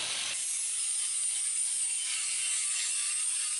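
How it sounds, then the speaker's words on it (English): A grinder working down spots of metal on a heavy-duty off-road truck bumper, a loud continuous high-pitched whine with no break, close up and without talk. "Oh, I'm grinding down these spots."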